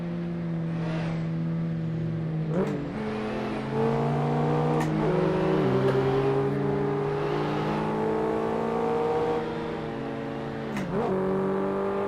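Car engine in a driving video game on a large open map with sloped roads, droning steadily with rising and falling revs and gear-shift dips throughout, loud and continuous with no talk.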